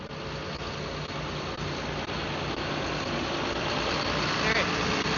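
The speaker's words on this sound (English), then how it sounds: "So this tractor pulls the potato planter." A John Deere 7830 tractor engine idles steadily at close range, a continuous low rumble that stays loud throughout, with no speech.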